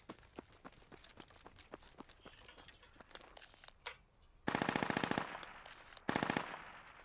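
Friendly gunfire in a tactical video game: rapid distant single shots in an irregular string, then two loud bursts of automatic fire up close.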